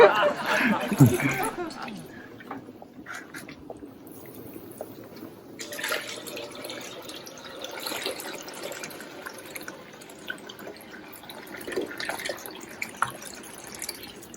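Maple sap pours and splashes into an evaporator at a sugar shack, a steady liquid trickle with drips over background noise while people talk and chuckle nearby.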